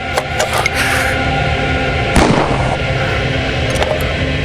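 Sharp gunshot cracks ring out in a crime drama scene, several quick pops early and one louder blast near the middle, over a dense, noisy background.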